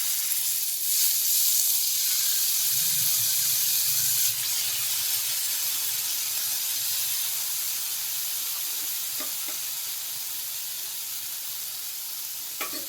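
Paneer tikka on a tawa pan gives a continuous hissing sizzle over medium heat, with a brief low rumble early on and the sizzle slowly softening.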